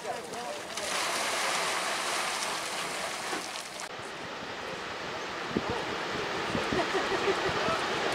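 Continuous rushing, churning water of Dragon Mouth hot spring in Yellowstone National Park, with a steady broadband roar, close and loud throughout, with no distinct voices.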